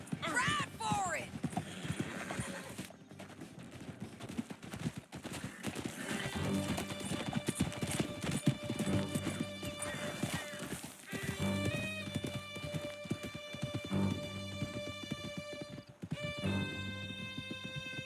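Galloping horse hooves in Red Dead Redemption 2, a steady clip-clop rhythm running throughout with a horse whinny near the start, under game music and talk.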